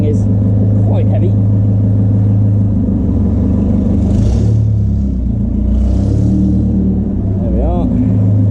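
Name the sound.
1929 Blower Bentley engine driving off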